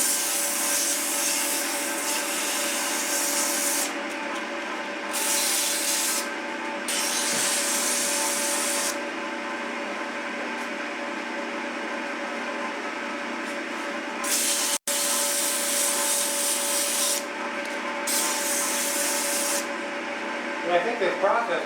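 A turned wooden egg is sanded on a spinning lathe, giving a steady abrasive rubbing whir with the motor hum beneath, broken by short pauses and a sharp click.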